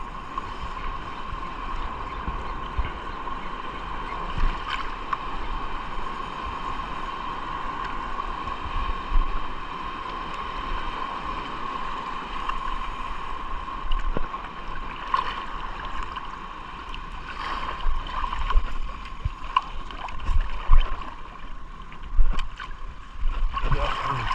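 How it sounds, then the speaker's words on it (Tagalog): A small fishing boat rides big waves on an ultralight fishing trip, with a steady engine drone and continuous sloshing, gurgling water around the hull for the whole stretch, without talk. "Sana may madali tayo sa malalaking alon na yan."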